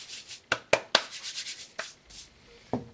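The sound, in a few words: hands working shortening into empanada dough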